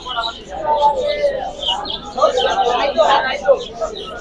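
Pigeons at the Jinjira pigeon market coo and flutter close by, their soft calls mixed under people talking throughout.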